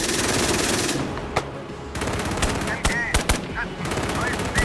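The machine gun on a West German Marder 1A infantry fighting vehicle fires rapid bursts in the Gunner HEAT PC game. The bursts come loud and close, with short pauses between them, and faint voices sound in the background.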